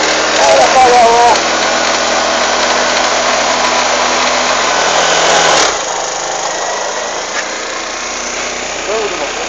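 A Benelli Adiva scooter engine runs steadily close by with a buzzing idle, then drops to a quieter, lower hum partway through; brief voices are heard.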